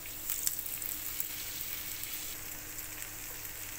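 Small flour-dusted prawns frying in oil, giving a steady, fairly quiet sizzle with faint crackles and pops throughout and no talking over it.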